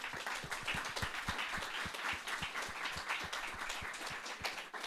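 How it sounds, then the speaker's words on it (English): An audience gives a round of applause for Croatian foreign minister Gordan Grlić Radman at a dialogue event, with steady clapping heard at a distance and no voices over it. "let's give Minister Radman another round of applause."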